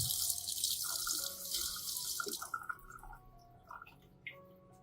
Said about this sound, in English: You should rinse gently to avoid damaging healthy roots.